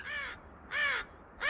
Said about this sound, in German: Über dem Plateau erschallte der Ruf eines Raben.